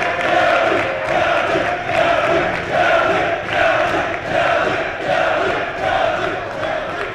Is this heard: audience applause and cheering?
yes